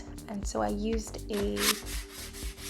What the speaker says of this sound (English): sanding block, and I just sanded it lightly